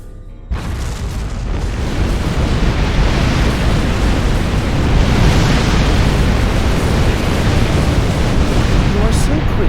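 A factory blowing up in Star Trek Online: a sudden heavy blast followed by a sustained, roaring rumble of explosions that stays loud and dense for several seconds.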